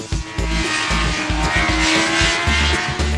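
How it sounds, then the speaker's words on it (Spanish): A Honda sport motorcycle from 2005 revs hard at high rpm, a loud engine note pulsing in rapid bursts that rise and fall, alone with no voices. "es una moto a la que le gusta funcionar a altas vueltas"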